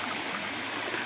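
Creek water flowing in a rural province, a steady close rush and babble of water with no voices.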